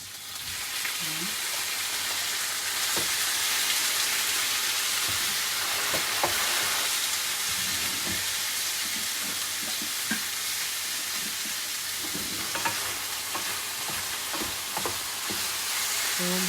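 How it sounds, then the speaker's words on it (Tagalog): Pork belly sautés in a hot pan, a steady crackling sizzle with scraping stir strokes and occasional louder pops running throughout. "gisahin lang natin ito hanggat mag-golden brown yung ating pork"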